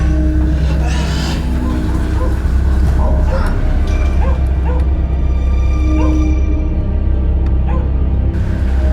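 A dog barks repeatedly in short yips against a constant low rumble of background noise, with faint voices now and then.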